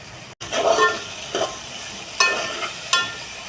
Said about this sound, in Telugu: టమాటా వేసేస్తున్నాను